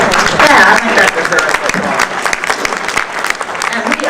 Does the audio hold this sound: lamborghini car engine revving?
no